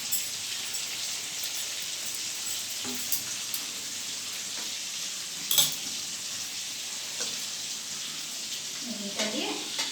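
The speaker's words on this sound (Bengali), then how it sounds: "মশলার সাথে সবজিগুলো কষানো আমার কমপ্লিট হয়ে গেছে। এবার আমি এর মধ্যে দেবো ঘি।" Vegetables cooking with spices and ghee for a vegetarian biryani, a soft steady sizzle with occasional stirring scrapes and a brief clatter midway.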